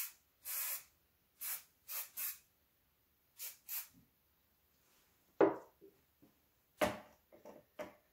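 A spray bottle lightly mists curled hair in quick short bursts, giving soft hissy spritzes in an uneven rhythm, close by and otherwise quiet, with a few faint handling taps.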